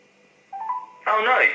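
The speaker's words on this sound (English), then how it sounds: "Okay, so it's ringing." Telephone ringing on a call to a premium-rate number: a steady tone rises then a louder buzzy ring pattern starts near the end, heard alone at moderate volume.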